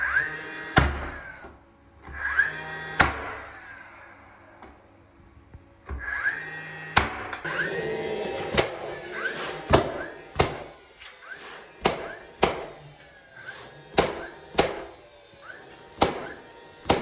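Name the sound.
DeWalt finish nailer shooting in bump fire mode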